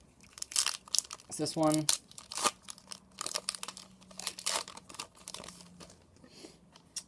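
Pokemon TCG BreakThrough booster packs being torn open by hand, crinkly foil crumpling and ripping in uneven bursts close to the mic, with someone talking over the handling.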